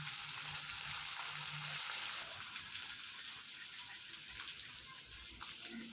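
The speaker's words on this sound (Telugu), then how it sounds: "తర్వాత కట్ చేసి పెట్టుకున్న ఉల్లిగడ్డలు వేసి కాస్త బాగా ఫ్రై అయ్యేలాగా కలుపుకుందాము" Chopped onions and curry leaves fry in a pan with a steady soft hiss and sizzle, occasional scraping of stirring underneath, close and fairly quiet.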